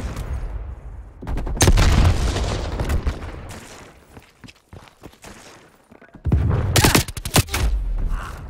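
A grenade detonates in Black Ops Cold War multiplayer with a sudden loud blast and a crackling, rumbling tail. After a quieter stretch, a second heavy burst of explosive noise and rapid cracks breaks out.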